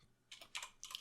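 Three short bursts of computer keyboard typing, quiet and close, separated by brief pauses with no voices.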